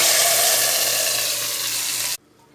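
Chicken hits hot garlic-ginger paste in a kadai and sizzles loudly and steadily for about two seconds before cutting off abruptly into near silence.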